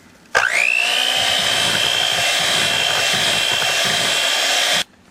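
Electric mixer beating blueberry cheesecake batter with vanilla and kosher salt, a steady high motor whine that starts abruptly, holds loud and even for about four seconds, then cuts off.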